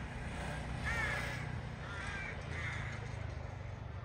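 Crows caw at their nests in the town centre of Kulundu, a few harsh calls rising above a steady low background rumble, moderately distant.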